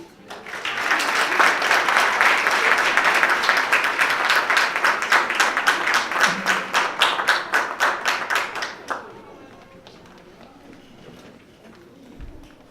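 Audience applause at a D.D.S. 2018 ceremony: a dense, sustained wash of many hands clapping for about eight seconds, thinning into scattered individual claps before fading to quiet room tone.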